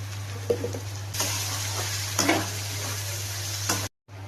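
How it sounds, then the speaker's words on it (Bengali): Cumin and coriander powder with salt being sautéed in a pan, giving a steady close sizzle with stirring scrapes throughout, a constant low hum underneath, and a brief cutout near the end. "একটু জিরের গুঁড়ো, আর একটু ধনের গুঁড়ো, নুন। এবার এটাকে কষাবো"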